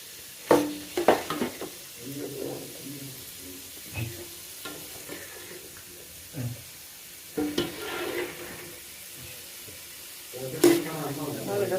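Meat frying in a pan with a steady sizzle, broken by several louder stirring and scraping bursts of utensil against the pan, with faint speech-like sounds now and then.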